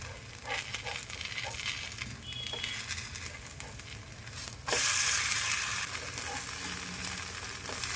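Jowar-bajra millet pancakes sizzle steadily in a hot pan, a close, continuous crackle with a few soft taps and a louder surge of frying partway through.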